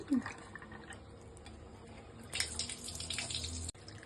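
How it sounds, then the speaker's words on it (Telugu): Cashew nuts rinsed under a running kitchen tap, a soft steady stream of water splashing into a bowl with faint clinks and handling noises, close and fairly quiet. "జీడిపప్పు శుభ్రంగా కడుక్కొని"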